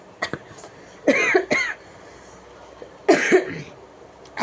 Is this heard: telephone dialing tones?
no